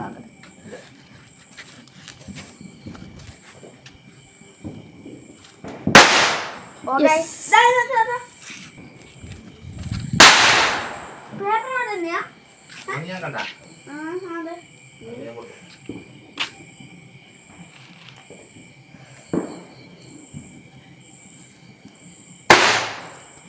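Firecrackers burst at a family Vishu celebration, several sharp loud bangs spaced out amid crackling, with people talking and calling out throughout and a steady high tone in the background.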